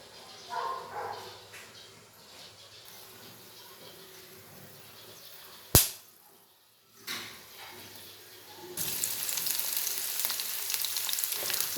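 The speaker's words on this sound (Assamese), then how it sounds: "যিমান আছিলে পিঁয়াজ আদা নহৰু মই ইয়াতে দি দিলোঁ মছলাখিনিৰ লগত" Onion, ginger, garlic and spices hit hot oil in a dhaba-style Assamese home kitchen, giving a soft sizzle with a sharp clatter midway, then a loud, steady frying hiss that swells near the end.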